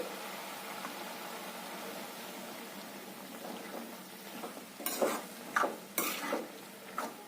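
Jackfruit seeds and gourd shoots fry with banana-peel alkali in a pan, giving a soft continuous sizzling hiss, followed by several close scraping stirs of a spatula toward the end.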